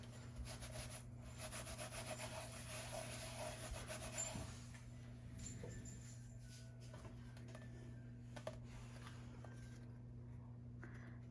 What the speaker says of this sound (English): Let's wipe the powder residue off of here.